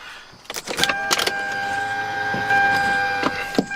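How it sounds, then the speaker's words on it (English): A Lexus SC300 engine cranks in a cold start with a few brief bursts, then catches and settles into a steady, close idle with a high whining tone running underneath. "let's go ahead and give it a cold start here"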